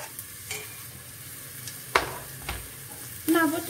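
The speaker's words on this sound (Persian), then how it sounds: "پیاز ها رو داخل روغنی که داغ شده می‌ریزیم." Onions frying in hot oil, a steady close sizzle with brief sharp crackles and spatters as the pan is stirred, loudest near the end.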